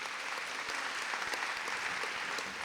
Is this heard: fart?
no